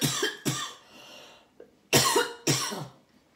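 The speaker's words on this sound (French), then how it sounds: "Excusez-moi, je tousse un peu." Several harsh coughs from one person, close and loud: two quick bursts, a faint small one, then two more strong coughs in succession, with quiet gaps between them.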